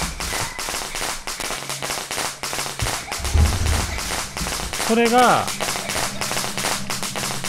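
Firecrackers are thrown in the horror game Shadow Corridor, a series of sharp crackling pops bursting repeatedly across the scene while a person talks over them.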